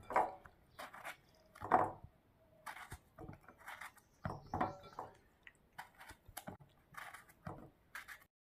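A knife chops through a firm gourd on a cutting board in quiet, close, uneven strokes with short pauses between cuts.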